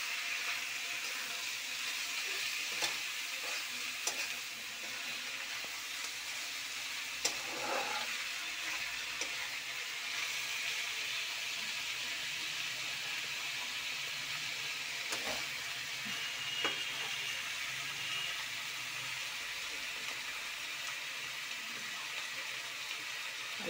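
Potato, onion and boiled cabbage fry in a pan with a soft, steady sizzling hiss, broken by a few brief clicks and scrapes, fairly quiet and with no voices.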